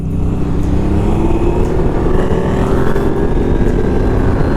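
A 2020 Can-Am Ryker three-wheeler accelerating hard while racing a KTM, its engine drone loud and steady with heavy wind rush throughout, no talking.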